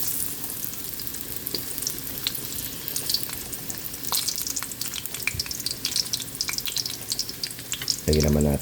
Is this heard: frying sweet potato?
yes